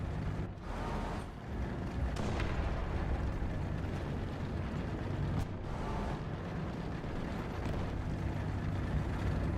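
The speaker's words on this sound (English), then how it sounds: "I can hear gunfire." Gunfire and artillery in the War Thunder Legend of Victory event with the BM-31-12 rocket launcher, a dense continuous roar of battle with several sharper bursts standing out, loud and steady throughout.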